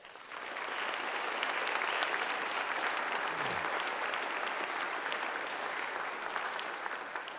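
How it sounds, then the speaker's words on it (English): An audience at a sports awards ceremony gives a round of applause, dense steady clapping that swells in quickly and holds evenly for several seconds. "please join me in saying thank you with a round of applause"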